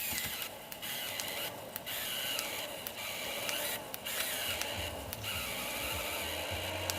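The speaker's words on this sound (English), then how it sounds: "so just get it to wind in a bit" An RC winch's small electric motor and gearbox wind in up close, giving a steady mechanical whir that briefly dips and surges in short bursts, with no talking.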